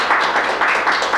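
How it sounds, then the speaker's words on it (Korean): Church congregation clapping to welcome new members during a Korean Presbyterian Sunday service, a steady patter of hand claps in several swells over a short span, fairly close and without talk. "우리 박수로 환영하십시다"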